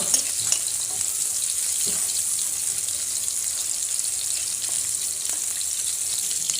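Ground turmeric, chili and cumin frying in hot oil alongside tilapia, a steady broadband hiss and crackle that stays even and close throughout, with occasional faint stirring clicks.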